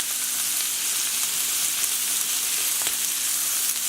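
Ground beef with chili powder fries in a pan with a loud, steady, close sizzle and occasional soft crackles, with no voices.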